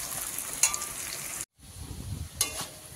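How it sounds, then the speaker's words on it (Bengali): Onion, garlic and slit green chilli fry in oil with salt and turmeric, giving a steady soft sizzle with a couple of quick spatula scrapes and a brief cut-out midway. "এই যে পরিমাণ মতো নুন আর হলুদ দিয়ে একটু ভেজে নেব।"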